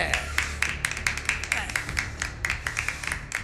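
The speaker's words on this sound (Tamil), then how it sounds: "கைத்தட்டி உற்சாகப்படுத்துங்க" Audience clapping at a Tamil TV song competition, a steady run of sharp claps close by with a low sustained musical tone underneath.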